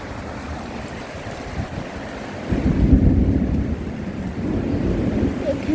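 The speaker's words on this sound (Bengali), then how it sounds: "কি জোরে বৃষ্টিটা নেমে গেল" Heavy rain driven by strong, gusting wind during a Kalbaishakhi (nor'wester) storm, a dense broadband roar that swells louder about halfway through and stays steady, with no talk.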